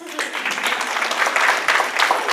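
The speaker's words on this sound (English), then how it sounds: "Clap it up for your parents" Students and audience applauding parents at a school academic signing day event, a short burst of steady crowd clapping filling a room.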